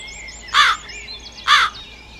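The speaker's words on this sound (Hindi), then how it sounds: "तभी एक लक्ष्मी कव्वी अपने कालू कव्वे के साथ वहाँ आती है।" Two loud, separate caws from a cartoon crow, each about a quarter second long and spaced roughly a second apart, heard with no talking.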